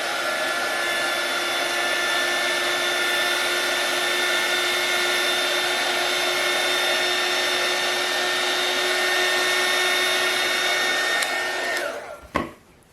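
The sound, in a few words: heat tool blowing hot air to dry paint on barn quilt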